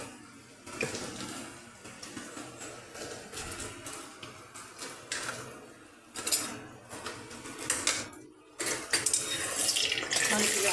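Water poured into a pot of cooking lentils, a continuous splashing rush with occasional clinks of utensils, loud and close throughout.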